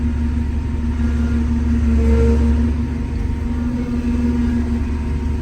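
A 1991 Claas Dominator 98sl combine harvester with hydrostatic drive rumbles along steadily, its engine holding a constant low drone with a faint mechanical whine riding on top.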